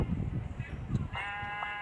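Sheep bleat while being sheared in the video game Crafting and Building, a short bleat that rises out of a low rumble near the end, with a voice heard briefly.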